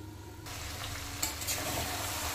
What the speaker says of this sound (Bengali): এটাকে আমি একদম মিডিয়াম আঁচে ভালো করে ঢেকে ঢেকে কষাচ্ছি।